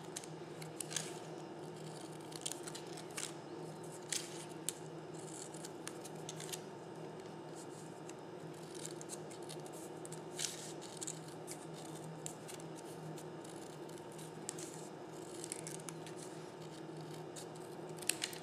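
Scissors trimming the edge of paper for a paper pumpkin pinwheel candy favor, heard as soft, faint snips scattered over a steady low background hum, close and quiet.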